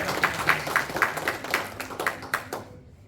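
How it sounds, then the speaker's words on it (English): Audience clapping at a cricket club presentation evening held at a Hindu temple, a brisk round of rhythmic hand claps from a small crowd that thins and stops after about two and a half seconds, with no talking. "big round of applause for all of these guys for coming forward and supporting us"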